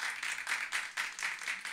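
Applause from a small studio audience on a talk show, a fairly faint, steady patter of clapping hands pulsing in waves for a couple of seconds.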